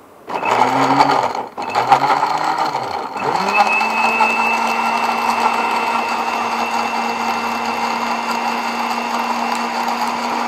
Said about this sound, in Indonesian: Anggur yang sudah dipotong-potong ini baru kita blender bersama dengan bawang putih.